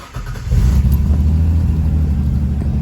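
A Ford Ranger pickup engine starts and settles into a steady, loud idle on a cold day, a deep continuous low rumble close by after the brief crank, with no talking.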